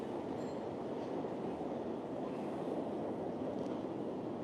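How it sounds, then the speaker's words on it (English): Train at Penn Station under Madison Square Garden in New York City, a loud, steady rumble of rail cars with faint wheel squeals, continuous throughout. "Let's go this way and get on the train."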